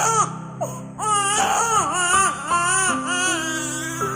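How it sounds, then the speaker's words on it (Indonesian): A baby girl bursts into loud, wavering crying, rising and falling wails with short breaks between sobs, close and intense throughout. "bayi itu tiba-tiba menangis"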